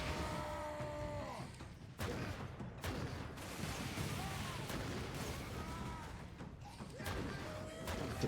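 Vengeance Launcher firing in the video game Space Marine 2, heavy booming shots in a dense, loud battle mix with repeated sharp impacts and explosions over constant combat noise.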